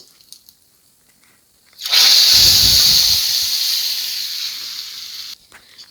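Hot oil tempered with whole cumin, fried until red, is poured onto cooked potatoes for a koi fish and potato curry. It sets off a sudden loud sizzle and hiss that holds steady for about three and a half seconds, then cuts off.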